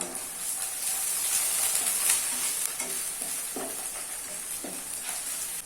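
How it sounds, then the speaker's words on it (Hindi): Onions, green chili and ginger garlic paste sizzle steadily in a pan for a mutton keema fry, with soft scraping and stirring passes running under the continuous frying hiss; close and fairly loud throughout. "अभी इसमें 2 ग्रीन चिली ऐड कर लेना है और 1 चम्मच जिंजर गार्लिक पेस्ट ऐड कर लेना है और मिक्स कर लेना है।"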